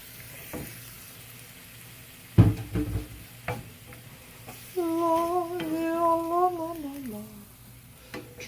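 Pasta being stirred into a hot pan for a weeknight Italian sausage lasagna, sizzling and frying with scraping spoon strokes, near and moderately loud, while a voice speaks in the middle stretch.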